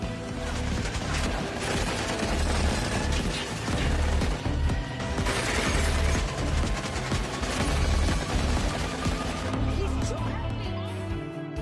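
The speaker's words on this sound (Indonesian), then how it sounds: "Lawan mendapatkan senjatanya dan langsung menunjuk Kuoda di depan dengan semburan tembakan" Rapid bursts of gunfire crackle through a film car battle in a prison death race, with the rattles and crashes blending into roaring vehicle noise and a dense, loud action soundtrack throughout.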